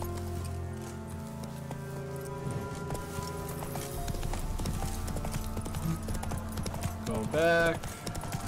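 Hooves of the horse Roach clip-clop at a steady trot in Witcher 3: Wild Hunt, a continuous rhythmic beat under game music, with a brief spoken line and a whinny near the end.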